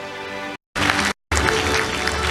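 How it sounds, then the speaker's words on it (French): Audience applause at the close of a school stage show, a dense wash of clapping in three bursts separated by brief silent gaps. "Merci d'applaudir et merci encore pour votre participation ce soir."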